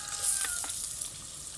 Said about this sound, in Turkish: Soğanımız pembeleşiyor. Devam ediyoruz kavurmaya.